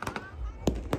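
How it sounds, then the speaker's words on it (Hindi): Dussehra fireworks and firecrackers at the Kalka fair, with sharp pops and bangs in quick bursts, two louder blasts near the end, over a rumbling crowd background. "आतिशबाजी एक से एक आतिशबाजी, क्या पटाखे, क्या बॉम्ब, क्या चक्रियाँ, क्या धुएं वाले अनार"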